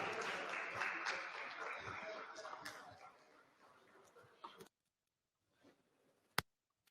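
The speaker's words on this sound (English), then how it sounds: "Please clap for Gina Pharma" An audience at a pharmacy association's award ceremony claps, fairly quiet applause that thins out and fades, then stops, leaving near silence broken by a single sharp click.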